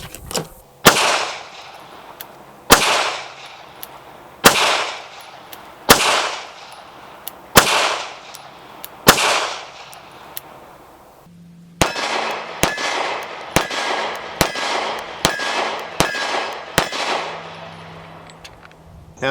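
Beretta APX Centurion pistol firing 115 grain full metal jacket rounds outdoors: a slow string of about six sharp, loud shots with ringing decay, then a faster run of about seven more.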